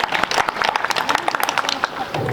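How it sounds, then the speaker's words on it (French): Employees applauding their lord at a manor: a short burst of brisk hand clapping from a small group, close and lively, with some talk mixed in. "Ah, être applaudi par ses employés"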